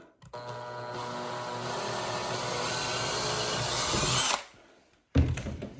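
A power drill whirs steadily for about four seconds close by, boring a hole in a cabinet for a knob, winds down, then a brief clatter follows.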